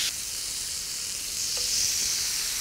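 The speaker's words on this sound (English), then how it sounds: "We're going to start grilling that bacon." Bacon sizzles on a grill beside filet mignon, a steady close hissing sizzle throughout with a faint tap of a utensil partway through.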